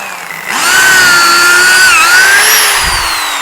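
A handheld power drill bores holes with a depth gauge, the motor spinning up sharply after a quiet start into a loud, steady whine that dips briefly as the bit bites, then holds near and strong.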